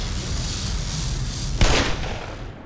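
Automated turret fire in Black Mesa, the Half-Life remake, as a close, loud burst of rapid shots over a constant rumbling din, with one sharp blast near the end and no talk.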